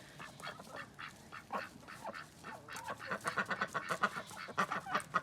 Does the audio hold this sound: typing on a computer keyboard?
no